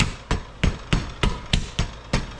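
A Brunt work boot used as a hammer during installation of a MaxxAir 7500 Deluxe roof fan in a van, striking eight sharp, evenly spaced blows in a steady rhythm, loud and close with no talking.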